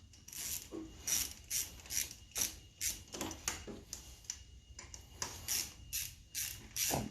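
A ratchet snugging down small engine top-end bolts on a 2001 Bayou 220 ATV, repeated quick clicking strokes in steady bursts, close and clear with no talking.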